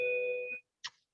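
A school bell sounds as a sustained electronic tone that holds for about half a second and then cuts off, followed by a brief quieter blip, moderately faint and heard alone.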